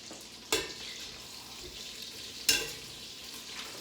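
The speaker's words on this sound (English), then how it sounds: "So when I put these onions in here, we're going to saute the onions till they're clear." Onions sautéing in melted butter for tomato basil soup: a quiet, steady sizzle broken by two sharp scraping clatters of a utensil against the pan, no voices.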